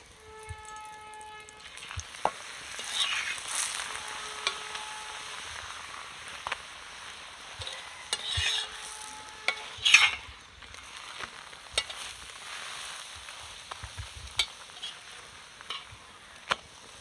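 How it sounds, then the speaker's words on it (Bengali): Two parathas fry together in a pan with a soft, steady sizzle. Intermittent scraping and flipping clicks and taps punctuate it, close by and fairly quiet, with no voices. "আমি একসাথে দুটো করে দিয়ে ভাজছি"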